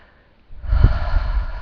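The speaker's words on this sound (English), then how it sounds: "take a nice deep breath" One slow, deep breath is drawn in close to the mic after a near-silent pause, a breathy, airy inhale that lasts over a second.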